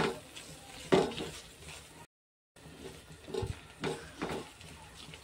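A spoon scrapes and stirs an almond laddu mixture with sugar in a pan, with soft irregular scrapes and knocks, close and quiet, broken by a brief silent gap.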